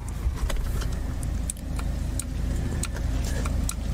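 People climbing into a car in a video game: a steady low engine rumble runs throughout, with light clicks and jingling taps scattered on top, close and fairly loud, with no talking.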